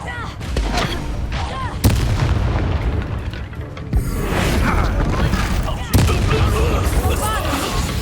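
Expulso blast spell bursting in the Hogwarts Legacy video game, heavy booming impacts at roughly two and six seconds amid continuous loud combat noise and spell effects, with shouted voices over the din.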